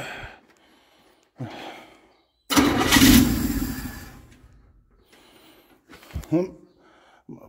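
A 283 engine in a parts truck cranks and briefly catches, with a loud burst of starter and engine noise in the middle, set between quieter gaps and short cranking attempts.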